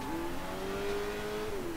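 A car engine in the video game Sleeping Dogs revs steadily, pitch climbing slightly then dipping, with a synthetic game-like tone and no talking.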